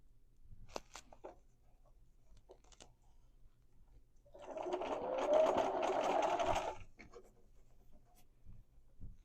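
A home sewing machine chain-piecing quilt blocks runs in one steady burst of a couple of seconds, its close, whirring motor and needle chatter standing out between quiet handling noises and soft clicks.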